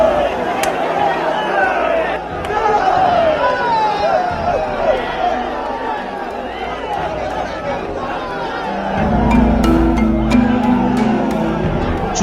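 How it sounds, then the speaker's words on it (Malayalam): A large crowd gathered for the Onathallu slap-fight in Pallasana, Kerala, shouts and murmurs around the contest, a busy hubbub of voices that swells toward the end, with people talking throughout. "ചുറ്റും ആർപ്പുവിളികളും കയ്യടിയുമെല്ലാം കേൾക്കാം."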